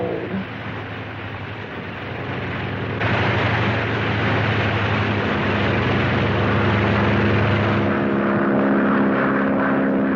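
Propeller plane engine roaring steadily and loudly, a broad continuous drone that swells slightly a few seconds in and holds without talk.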